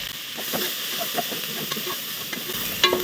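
Spiced eggplant and chickpea curry seasoned with salt and chili powder is stirred in a pan, giving soft scraping strokes over a low steady sizzle, close and alone with no talk.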